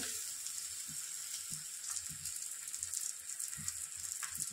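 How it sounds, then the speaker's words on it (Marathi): A thalipeeth flatbread made from bottle gourd and flour frying in hot oil on an iron griddle, a quiet continuous sizzle with a few soft crackles and spatters, no voices. "त्यानंतर आपण दुसरं थालीपीठ तव्यावर टाकून घेतोय."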